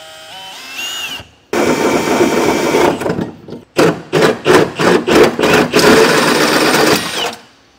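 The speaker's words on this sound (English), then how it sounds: "take a 4-inch hole saw with a pilot bit and drill out our hole." A power drill whines loudly as a 4-inch hole saw with a pilot bit bites in, grinding continuously, then cutting in rapid pulsing bursts before running steadily again and stopping.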